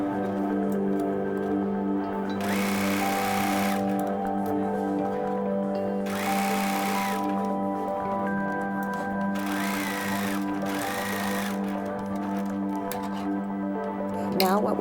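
A sewing machine zigzag-stitches a waistband onto a circle skirt, running in several short steady bursts with pauses between, moderately close, over a continuous background hum.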